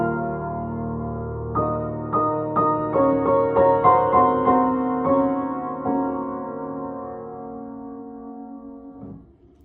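Solo piano plays the opening bars of Debussy's Clair de lune with rubato, soft sustained chords and single notes pushing ahead and easing back in a free, unhurried pulse, ringing alone and fading to silence near the end.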